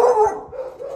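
A dog barks inside a kennel, a few quick close yips and barks that carry over the opening moments, with no talking.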